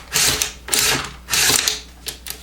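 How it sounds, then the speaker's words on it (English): A Spikes Tactical AR-15 bolt carrier and bolt being worked by hand gives a few sharp metallic clacks and sliding scrapes in quick bursts, close and fairly loud with no talk. "The bolt carrier and bolt, it seems pretty smooth."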